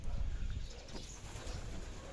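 A racing pigeon hen coos softly at a pigeon racing club's pooling and training session in Lupao, Nueva Ecija, low murmuring calls over a faint background hum.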